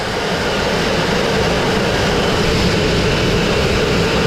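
A dustless blasting machine cleaning smoke-damaged brick produces a loud, steady, unbroken roaring hiss right up close, constant throughout with no pauses or voices.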